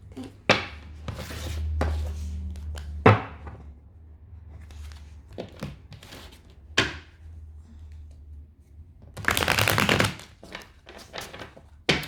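Tarot cards being shuffled in brisk bursts of papery riffling and tapping, with soft handling noises between, up close and fairly quiet.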